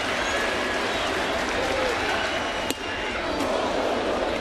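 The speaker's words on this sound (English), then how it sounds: "Let that crowd noise kind of sink in." A dense, steady roar of crowd noise and applause fills a baseball stadium during an Oakland at New York Yankees game, continuous and loud, with a commentator talking underneath.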